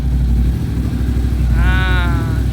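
A Moto Morini X-Cape 1200 motorcycle idles close by after its first 1,000 km service, its engine hot, with a loud, steady low throb and a brief rising whine partway through.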